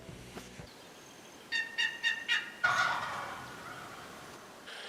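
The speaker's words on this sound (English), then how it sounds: "before I set up there were some gobbles. So turkey are over here" Wild turkey gobbling in the woods during a spring hunt: four quick gobbles from a distant bird in a rolling series, then a louder, longer gobble trailing off, with no talking.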